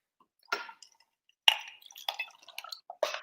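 Espresso pours into a cocktail glass over ice in a few short, splashy bursts of liquid with faint drips and clinks between them, close and fairly quiet.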